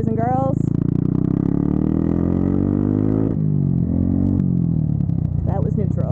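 A motorcycle engine drones loudly and close, revving up with a rising pitch, dropping off, then pulling again, with brief voices at the start and end.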